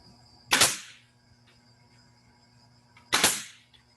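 A nail gun fires two loud, sharp shots a few seconds apart, driving nails into wood panels held together in a woodworking shop, each crack followed by a brief decay over faint background hum.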